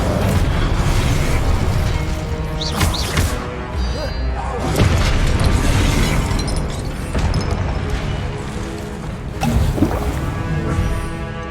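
Fiery spell blasts in Hogwarts Legacy combat, booming bursts and crackling impacts over a busy, loud game soundscape, with a voice shouting spell names.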